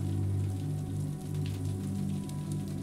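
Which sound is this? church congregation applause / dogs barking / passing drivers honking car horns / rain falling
rain falling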